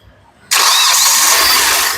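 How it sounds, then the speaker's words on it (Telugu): A 2018 Hyundai Grand i10 Sportz with a three-cylinder engine starts on a single crank, bursting abruptly into a loud, steady idle that holds close and even, with no talk. "సింగిల్ సెల్ఫ్ లో కార్ స్టార్ట్ అయితే ఎటువంటి స్టార్టింగ్ ట్రబుల్ అయితే లేదు త్రీ సిలిండర్ ఇంజన్ అండి"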